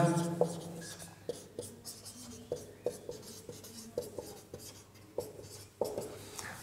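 Pen writing numbers by hand on paper during a Hindi maths lesson: a run of short scratchy strokes and taps, close and fairly quiet, with no talking over them.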